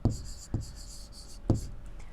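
Chalk or marker strokes from a teacher writing answers by hand on a board, heard as three sharp separate taps with scratchy strokes between them, close and fairly quiet, with no talking.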